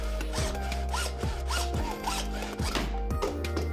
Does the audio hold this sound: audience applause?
no